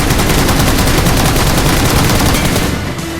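Dense, continuous bursts of automatic gunfire from a PUBG Mobile firefight on the Livik map, loud and rapid with overlapping shots throughout, easing slightly at the very end.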